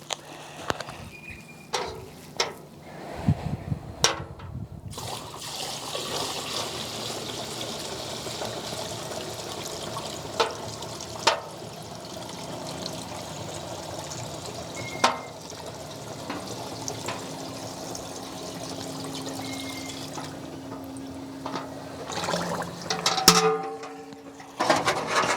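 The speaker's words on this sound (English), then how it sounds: "I'm just going to pour that into the container." Recycled mineral turpentine from a distiller being poured into a container, a steady trickling pour running through most of the stretch with scattered clinks and handling knocks, close and moderately loud, no talking.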